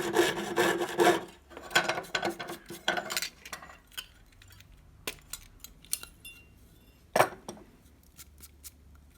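Jeweler's saw piercing a copper sheet to cut out a snowflake, a rasping back-and-forth rhythm of short strokes, dense at first and then sparser with pauses and a few sharp taps, close and quiet.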